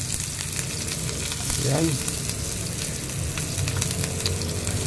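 Chopped onions hit hot oil in a frying pan while making a budget sardine dish, giving a steady close sizzle that swells briefly as they go in, with a short spoken word over it.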